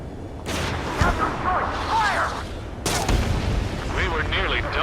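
Heavy gunfire and explosions rumble through a combat scene in the flight video game Ace Combat 7, with booming blasts and crackling bursts layered over radio chatter and sweeping tonal sound effects, loud and dense throughout.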